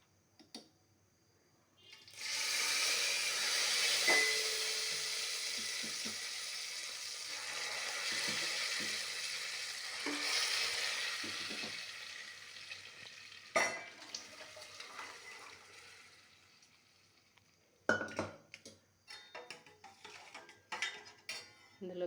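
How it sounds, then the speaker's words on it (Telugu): Cooked dal poured into a hot tempering for tomato dal, giving a loud, sustained sizzle that slowly fades while a spoon scrapes and clinks against the pot, with sharper stirring clatter near the end. "అందులోకి మనం ముందుగా చేసి పెట్టుకున్న పప్పు వేసుకుంటాం ఫ్రెండ్స్"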